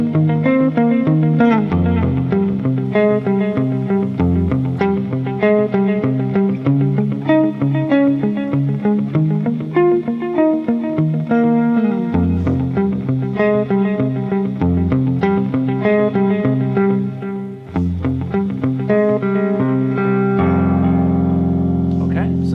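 Electric guitar with effects, likely chorus and distortion, plays an arpeggiated picking pattern, moving through the chord changes in a steady rhythm, clear and close for over twenty seconds with no talking.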